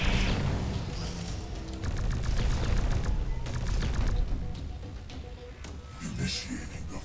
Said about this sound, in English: The aliens are shooting at us.